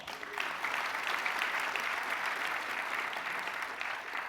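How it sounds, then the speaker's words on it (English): Sustained audience applause at a fireside chat event, a dense, even wash of clapping from a crowd that holds steady for a few seconds before easing off. "Round of applause"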